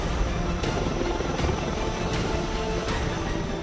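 Navy Sea King and Dhruv helicopters on the deck of the aircraft carrier INS Vikrant, a steady loud rotor and turbine roar with faint periodic blade thumps, continuous throughout with no talking.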